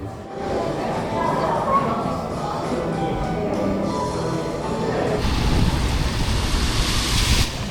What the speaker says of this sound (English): the rain has not abated much